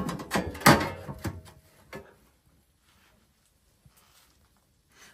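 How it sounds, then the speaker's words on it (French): A metal pizza oven door is shut with a cluster of clanks, scrapes and knocks over the first two seconds, followed by near silence with a couple of faint ticks. "Et là, on n'hésite pas à fermer avec la porte."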